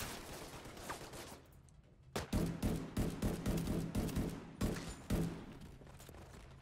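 Sustained automatic gunfire from the video game The Division 2, rapid loud bursts hammering almost continuously after a brief lull, with short gaps between volleys and no voices.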